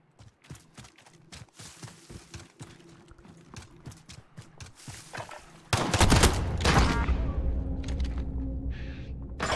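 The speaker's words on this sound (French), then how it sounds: "Ça tire quand même de loin le pompe en fait." Gunfire in Call of Duty Modern Warfare: a fast run of sharp, punchy shots, then a louder burst of heavy blasts and rumbling game noise. No voices are heard.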